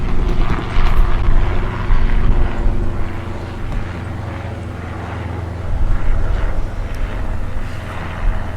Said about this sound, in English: I'm gonna let this plane go by.